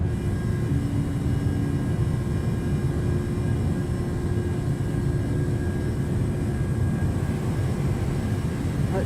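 Jet engines of a Southwest Airlines Boeing 737-700 climbing out after takeoff in a flight simulator, a steady, loud low roar with a faint whine that holds unchanged throughout.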